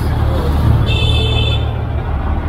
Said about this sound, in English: Here are the local buses.